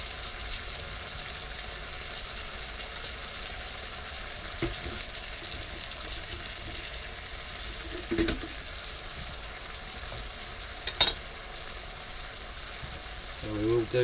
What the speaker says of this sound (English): One stir fry.